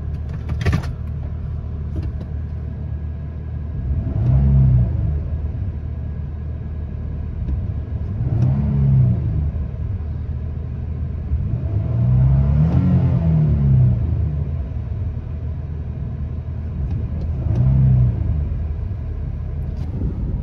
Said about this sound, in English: we'll go ahead and get a couple interior revs now so you guys can hear what the engine sounds like